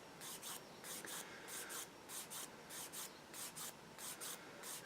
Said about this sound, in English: I'll just give it a quick once over with the sander